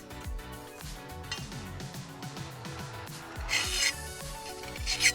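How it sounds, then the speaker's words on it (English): Hand file rasping along a lawn mower blade during sharpening, steady repeated strokes up close and loud, with brighter, harsher passes near the end and no voices. "But as you run your file,"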